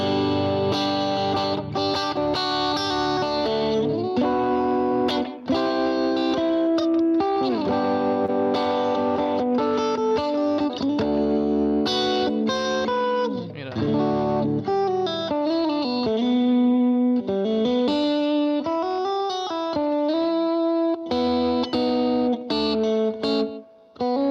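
Electric guitar with effects, distortion and chorus working through a chord progression, played steadily and loudly for the whole stretch with shifting sustained chords and a few melodic runs, no voice over it.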